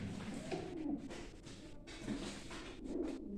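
Pigeons kept in boxes coo softly and repeatedly at close range in a quiet space, with no voices.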